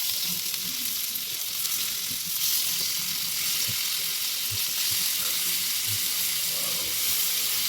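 Chicken reshmi kabab frying in leftover butter in a pan, a steady close sizzle with scattered pops and spatters throughout, no talking.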